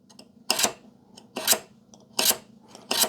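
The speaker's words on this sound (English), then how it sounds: "I come here and I take my scribe. It's a carbide scribe." A carbide scribe scratches a line into the metal casing of a Mitsubishi Pajero transmission control unit, with four distinct rasping back-and-forth strokes in a steady rhythm, close and fairly loud over a faint hum.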